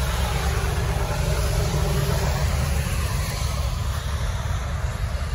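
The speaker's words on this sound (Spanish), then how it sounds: "está el traficazo que está allá" Heavy traffic sits idling in the rain, a dense steady wash of engine rumble and rain hiss at moderate distance, continuous and even throughout.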